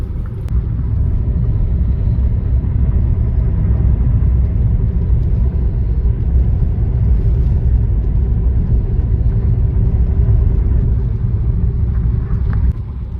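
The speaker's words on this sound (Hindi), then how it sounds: "इस हाईवे पे इस पर्टिकुलर मोमेंट पे इस टाइम पे 100 पे चल रही है गाड़ी" Inside a 2023 MG ZS EV electric SUV cruising a highway at 100 km/h, a constant, loud, low road and wind rumble continues without a break and with no talking.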